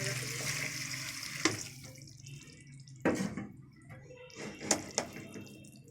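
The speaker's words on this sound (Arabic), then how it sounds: "احط الشوربه برضو." Broth is poured over cabbage leaves in a pot for Egyptian stuffed cabbage mahshi, making a close, splashing liquid pour broken by a few sharp clinks and knocks.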